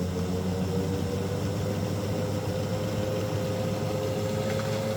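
An Athearn Genesis SD70AH model locomotive runs at half throttle, giving a steady, even motor hum with a faint whine and no talking.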